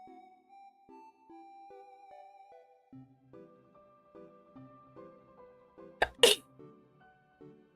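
A single sharp, loud sneeze bursts out close by over a quiet, gentle melody playing softly in the background.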